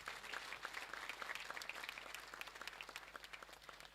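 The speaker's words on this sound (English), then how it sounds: "Let's give them a round of applause." Audience applause for the upper six students at a girls' college speech and prize-giving day, steady crisp clapping from a crowd across the whole stretch, fairly faint and distant.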